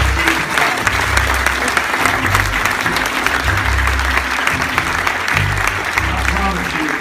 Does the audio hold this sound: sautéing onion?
no